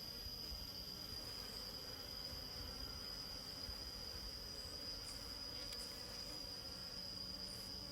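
Bees from a wild forest cavity hive buzz in a faint, continuous drone during a honey harvest, steady and unbroken for the whole stretch.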